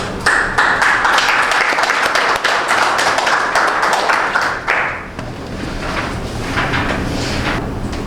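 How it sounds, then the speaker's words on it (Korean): An audience at a construction-safety seminar claps to welcome a speaker, loud and dense at first for about five seconds, then quickly thinning into a quieter room tone. "큰 박수로 환영해 주십시오."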